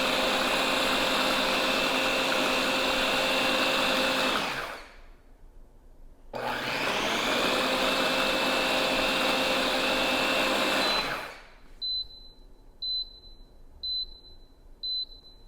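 A Grownsy baby food maker purees in auto mode: two long loud whirring blender runs with a short pause between, followed by a series of regular electronic beeps.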